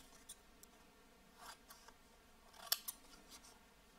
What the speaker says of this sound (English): I know I'm cutting a lot of these out today